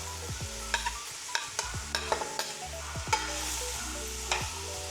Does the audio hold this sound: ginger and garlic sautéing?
yes